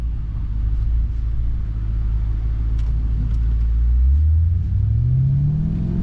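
Engine of a 2021 Maserati Ghibli Trofeo rumbles low and steady through an open car window while driving, rising gradually in pitch toward the end as the car accelerates, with road noise underneath.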